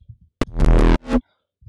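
Hard-clipped, distorted sine-wave bass from the Vital synth, a short, heavy, buzzing low note that slams in loudly for under a second, followed by a briefer swelling tail.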